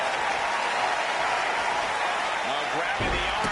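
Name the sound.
wrestling crowd applauding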